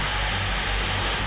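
An RAF jet on a training exercise roars loud and steady, a dense continuous engine rush filling the whole moment with no voices.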